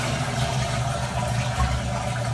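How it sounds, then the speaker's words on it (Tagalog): Toilet flushing after bowl cleaning, water rushing and swirling in a continuous steady gush, close and moderately loud, with no voices over it. "flush the toilet."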